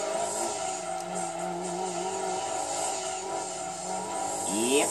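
Race car tires squealing in the Gran Turismo 2 video game, a sustained engine drone with a rising tire screech near the end, moderately loud, with no talk over it.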